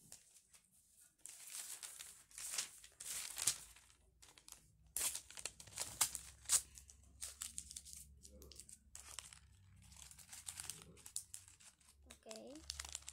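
Paper sheets being crumpled and handled while cutting with scissors, producing a series of crisp crinkling and tearing bursts of varying loudness, close up, with faint background noise and some voices.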